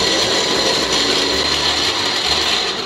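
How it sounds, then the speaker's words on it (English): An electric spice grinder whirs steadily through a batch of roasted coriander, peppercorns, cumin and dried red chili, a loud, dense grinding noise that runs continuously without a break. "Now I will grind this."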